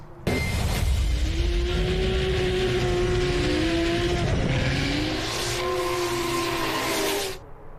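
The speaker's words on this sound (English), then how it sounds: "And now we can see the this classic red car that David Skogsby always drive fast." A red drift car races hard at a Mantorp Park drift event, its engine screaming with rising and falling pitch and tires hissing, loud and continuous before cutting off near the end.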